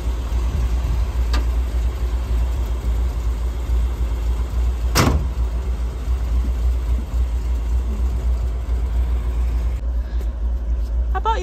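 A car engine idling steadily after a carburetor adjustment, a continuous low rumble throughout with a brief sharper noise partway through and faint background sounds.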